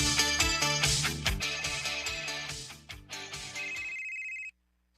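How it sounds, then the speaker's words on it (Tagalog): A mobile phone rings with a bright, repeating melodic ringtone, fairly close and steady for about four seconds before cutting off abruptly into silence. "Oh, imo ng phone?"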